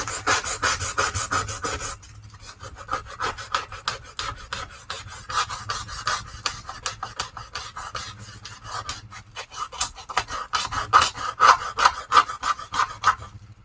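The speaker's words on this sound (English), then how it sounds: "And we need to sand down." Steady rhythmic rasping of sandpaper scrubbing a Little Golden Book cover being made into a junk journal, with quick back-and-forth strokes that run continuously at close range and pause briefly partway through.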